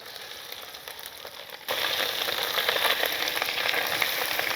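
Boiled fish roe drops into a hot pan and the steady frying hiss suddenly swells into a loud, dense, continuous sizzle.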